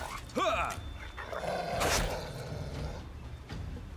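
A dog barks and yelps in a Divinity: Original Sin 2 battle. A couple of sharp, yelping barks rise above the combat noise, with one louder cry in the middle and a voice talking over the fight.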